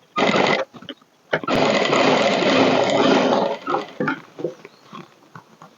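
A sewing machine stitches along a blouse strip in loud bursts: a short run, a pause, then a long continuous run, followed by a few brief stuttering stitches and handling sounds.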